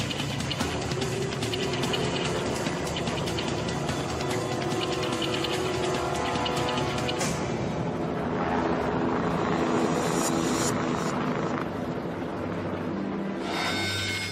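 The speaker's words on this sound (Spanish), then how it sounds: "Jean saltó a la barra del helicóptero, agarró a Nikki y así la llevó hasta un lugar seguro" A rescue helicopter hovers over crash wreckage near a bridge, its steady rotor and engine drone loud and continuous throughout, with no voices.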